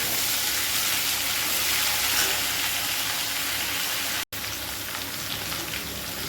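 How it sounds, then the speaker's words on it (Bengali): Taro stems and chopped tomato fry in a hot pan, giving a dense, continuous sizzle and crackle close by, steady throughout with one brief dropout near the end, no voices. "এখানে আমি টমেটোর কুচিটাও দিয়ে দিব, দিয়ে একটু ভাজা ভাজা করে দিই।"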